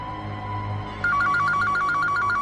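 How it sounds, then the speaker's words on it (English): A portable phone in a 2006 film rings with a steady electronic warble that repeats in quick bursts over a low background hum, loud and close. "Nope, it's a portable phone."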